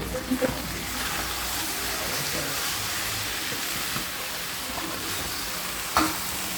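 Chicken fry sizzling steadily in a pan with coriander garnish added at the end, a dense close hiss broken by a few light stirring clicks.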